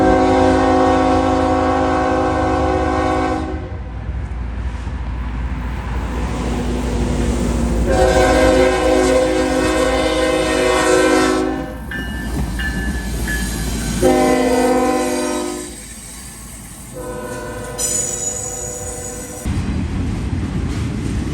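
A CSX freight train on the Toledo Subdivision passes close by, its loud horn sounding in several long blasts over the steady rumble and clatter of the rail cars, with no talk.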